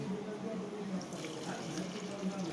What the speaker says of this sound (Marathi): आंब्याच्या झाडाला सुद्धा पाणी घालूया.